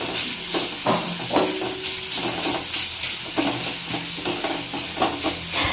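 A ladle stirs mango-leather chutney in a sizzling pan, scraping the metal with repeated steady strokes over a constant loud frying hiss. No one speaks.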